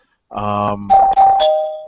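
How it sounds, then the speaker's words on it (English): A bell sound effect chimes loudly after brief silence, a bright two-tone ring that sustains and fades, close and alone. "just there's without spoiling too much, I'll ring the bell"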